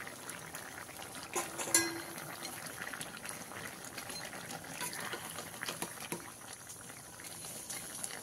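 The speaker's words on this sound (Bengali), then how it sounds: "এবার এর মধ্যে আমি মাছগুলো দিয়ে দিলাম। মাছগুলো দিয়ে অল্প কিছু সময়ের জন্য ফুটিয়ে নেব।" Small fish simmer in a boiling raw-tomato curry broth, giving a faint, steady bubbling with a few brief clinks near the start and no talking.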